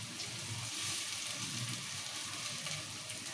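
Sliced onions and chillies sizzle steadily in a hot pan for a goat head curry as fresh mint goes in, a dense, even frying hiss with no voices.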